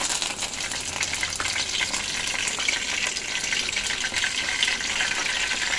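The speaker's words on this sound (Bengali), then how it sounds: "এবং কারি পাতা ফোড়ন দেব।" Curry leaves, added after mustard seeds, spit and crackle in hot oil, a loud, dense, steady sizzle close by with no voices.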